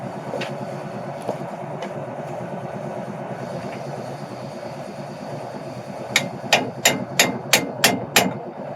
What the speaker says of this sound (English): we're going to take our chisel and we're just going to punch that thing off there